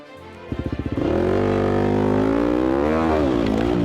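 A dirt bike engine on a trail starts with a few quick popping pulses, then revs up into a loud, close, sustained roar that rises and wavers in pitch as the bike rides over a person's leg.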